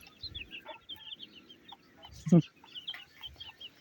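Decorative chickens and their young chicks cluck and peep softly nearby, with a brief louder fowl call midway among scattered chirps and light rustling.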